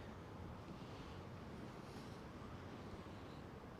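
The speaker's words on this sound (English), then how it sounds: "Hopefully the wind noise is not too bad." Steady low rumbling buffeting of wind against a microphone, constant and dense throughout with no voices.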